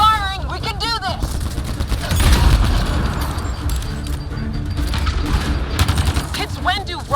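Gunfire in the video game Mass Effect Andromeda crackles in rapid bursts and booms, mixed with voices calling out over the shooting.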